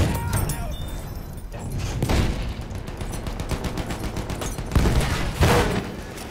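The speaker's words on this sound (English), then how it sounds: "There's an enemy machine gun." An enemy machine gun rattles in rapid, steady bursts in the video game Battlefield 1, mid-distance, with louder nearby shots cutting through near the end.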